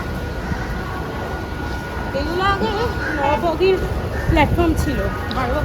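A local train stands beside platform three at Sealdah station, a dense, steady rumble and station din under close talking, with a faint rising hum near the end.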